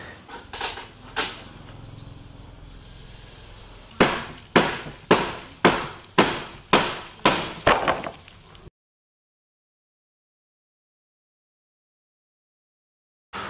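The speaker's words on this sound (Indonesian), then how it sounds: "Alatnya cuma pakai palu aja udah cukup sih." A hammer knocks apart the frame of a tarp pond for freshwater lobsters. A few scattered knocks lead into a rapid run of about eight sharp, evenly spaced blows up close, then the sound cuts to silence.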